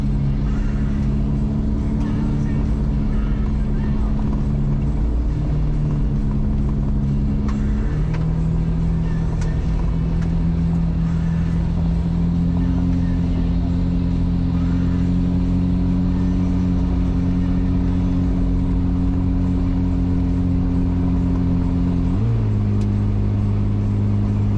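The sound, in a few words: 4x4 vehicle driving through forest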